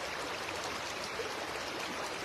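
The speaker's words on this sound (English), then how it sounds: "bring it back to the sounds of the river or the breath" A river flows in a steady, unbroken rush of water, soft and even throughout with no voices.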